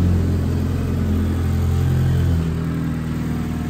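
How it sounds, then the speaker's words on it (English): The 2.5-liter engine of a 2015 Mazda CX-5 all-wheel drive with 64,000 miles runs at a steady, smooth idle, a close, loud low hum that eases slightly near the end, no talking. "the engine took no damage at all, runs nice and smooth"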